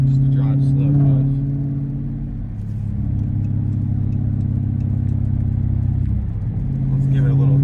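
A Dodge 6.4 SRT8 V8 idles with a steady low rumble and a faint ticking clatter suspected to be lifters or an exhaust leak, close up and continuous, with a slight dip in revs partway through.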